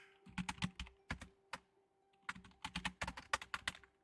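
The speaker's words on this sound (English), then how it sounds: "I'm typing in reverse." Quick bursts of keystrokes clatter on a computer keyboard, coming in irregular clusters with short pauses between, close and fairly quiet under a faint steady hum.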